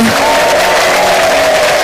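A large crowd at an outdoor Catholic Divine Mercy celebration claps loudly while high trilling ululation rises above the applause, dense and continuous throughout.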